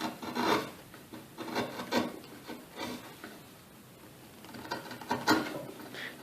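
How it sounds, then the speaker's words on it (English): Diamond Willow wood carved by hand with a U-groove gouge: close, dry scraping strokes in uneven bursts of rasping, with a quieter pause in the middle and no talk. "I get in here with the U-groove and just kind of go around."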